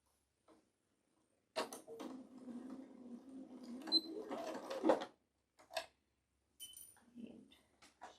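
A sewing machine runs a quilt seam in two short bursts, a quiet steady whirring stitch for about three seconds and then a brief second run, with light handling clicks between them in a quiet room.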